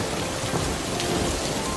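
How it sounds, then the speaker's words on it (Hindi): Heavy rain pours in a steady, dense hiss on surfaces, with a low thunder rumble rolling underneath; loud and continuous with no voices. "रात बीत जाती है और बारिश बहुत तेज हो जाती है।"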